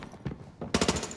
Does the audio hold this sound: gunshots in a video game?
yes